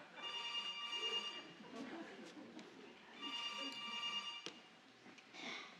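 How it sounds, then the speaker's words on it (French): A telephone rings in repeated bursts of shrill, trilling bells with short gaps between them, heard indoors under a muffled background. "Je vous dis que le téléphone va sonner."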